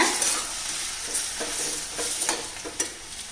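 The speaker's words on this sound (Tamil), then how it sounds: "வெங்காயம் வந்து நல்லா வதங்கிடுச்சு பாருங்கள்" Chopped onions sautéing in a pan for a Tamil-style bone soup, with a steady sizzle and several soft stirring scrapes and taps spread through the passage.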